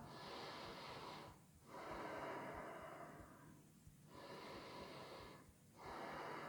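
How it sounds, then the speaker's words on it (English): Slow, steady breathing while holding a yoga pose: long sustained airy breath sounds broken by three brief pauses, close and soft, with no talk. "So we're going to stay here for a couple breaths."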